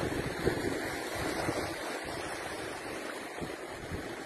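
Incoming tidal current flowing at the mouth of a river, a faint, continuous rush of moving water mixed with wind buffeting, with no voices.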